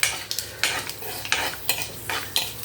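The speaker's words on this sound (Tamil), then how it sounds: "கடுகு பொரியுது." Mustard seeds and fenugreek sizzle in hot oil in a pan, broken by rhythmic scraping bursts of spoon stirring about every half second, close and moderately loud.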